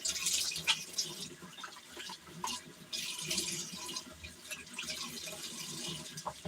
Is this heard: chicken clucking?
no